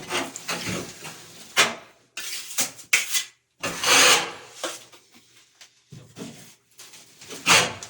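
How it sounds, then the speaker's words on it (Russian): White plaster is spread over a bathroom wall with a trowel, giving close, rough scraping strokes in uneven bursts with short pauses between them. "Дальше снова берем белую штукатурку. И продолжаем нанесение."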